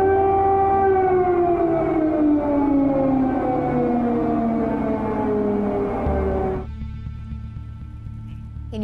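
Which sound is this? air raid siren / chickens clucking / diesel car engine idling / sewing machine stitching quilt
air raid siren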